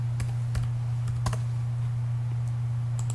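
Someone taps a computer keyboard to enter a dimension value, with a few scattered, close key clicks over a steady low electrical hum.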